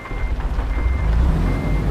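A truck in a driving video game closes in with steady reversing beeps over a deep engine rumble, loud and continuous, with no talking.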